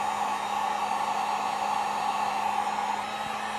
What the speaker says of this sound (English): Obviously be careful where you point the heat gun.